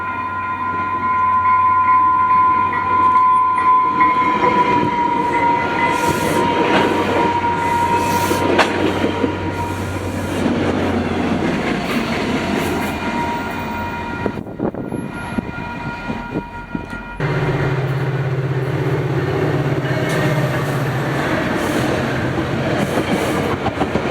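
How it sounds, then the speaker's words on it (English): Utah FrontRunner commuter trains, southbound led by locomotive 105 and northbound led by 3, pass a crossing with a loud sustained rumble, rolling wheel clatter and a steady tonal whine that drops away near the end. "the 9 a.m. FrontRunners, with the southbound one having 105 leading and the northbound one having 3 leading"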